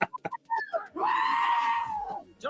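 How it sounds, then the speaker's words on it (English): Goats scream loudly in a long, wavering bleat, played as a sound effect after a few short bursts of speech. "The goats are coming in."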